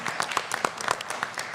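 School board meeting audience clapping for a student, a brief burst of distinct, fairly close hand claps in a loose rhythm with no speech over it.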